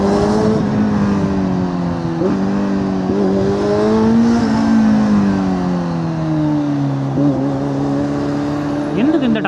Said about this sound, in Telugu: చూడండి ఎంత ట్రాఫిక్ ఉందో.